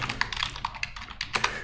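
Quick irregular keystrokes on a computer keyboard, a close, light clatter of taps in short bursts with no voices.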